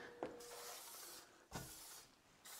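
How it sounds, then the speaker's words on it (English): Baking spray hisses from a can onto the sides of metal muffin rings in three short bursts, close and soft, with quiet pauses between. "you want to put some baking spray on the sides of the rings"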